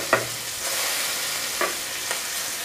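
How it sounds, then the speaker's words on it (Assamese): Onions sizzle in a pan of hot oil with cumin and turmeric, frying steadily while a spoon scrapes and stirs a few times, close and clear with no talk. "এতিয়া পিঁয়াজখিনি ইয়াতে দি দিম পিঁয়াজখিনি অকণমান ভাজি ল'ম ৰংচোৱালৈকে"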